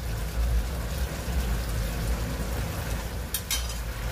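Soft sizzling in a pan with faint scraping as broccoli and straw mushrooms are stir-fried in sesame oil, steady and close, with a brief brighter clatter near the end.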